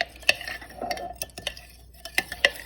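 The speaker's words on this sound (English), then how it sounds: "I think I mixed good enough." Homemade hair oil with rosemary, hibiscus and fenugreek seeds being stirred in a container, a few sharp utensil clinks and scrapes scattered over a couple of seconds, close and fairly quiet.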